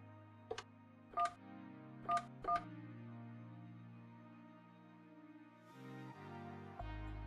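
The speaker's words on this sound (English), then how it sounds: "Dial *911." A phone dials the star code *911 as four short, crisp touch-tone beeps in an uneven rhythm, followed by a low steady hum with no talking.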